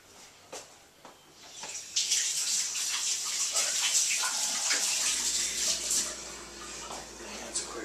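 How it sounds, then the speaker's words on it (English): Running water for a quick rinse, likely from a kitchen tap, a steady hissing splash that builds after a few soft clicks and continues fairly close and moderately loud for several seconds. "That's a quick rinse."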